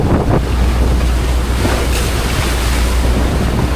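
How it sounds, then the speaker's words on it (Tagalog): Constant rushing Pacific Ocean surf fills the scene, heavy and close, with wind buffeting the microphone throughout. "Alon."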